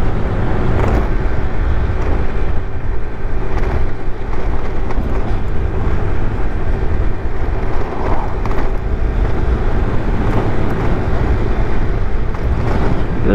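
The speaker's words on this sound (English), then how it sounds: "Boy, there's a lot of wind today." Strong wind roars steadily past the microphone while a GY6 50cc scooter rides along a bumpy road, a loud, continuous rumbling buffet that drowns out the small engine.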